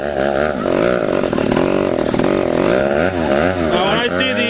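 A chainsaw cuts logs at an antique tractor show, its engine running loud and close in a continuous buzzing whine that rises and falls slightly as it bites into the wood.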